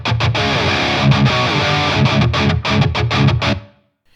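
Heavily distorted metal guitar through a Line 6 Helix with an Orange 4x12 cabinet impulse response plays loud, tightly palm-muted chugs with short stops, then rings out and cuts to silence.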